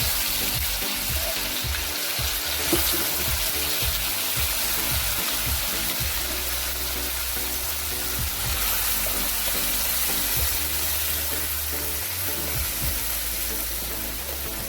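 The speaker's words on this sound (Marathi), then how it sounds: "हे वाटण तेल सुटेपर्यंत छानपैकी फ्राय करून घ्यायचं" Ground masala paste and garlic cloves fry in hot oil with a continuous, dense sizzle and crackle, steady and close throughout with occasional low knocks of stirring.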